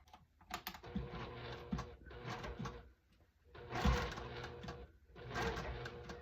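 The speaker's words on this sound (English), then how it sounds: "I'm sewing a 1/4 inch away from the top of the bag, and that should catch the lining, my straps" A sewing machine stitches across the top of a lined fabric gift bag through the straps, running in several bursts of rapid mechanical whirring separated by short pauses, close and moderately loud.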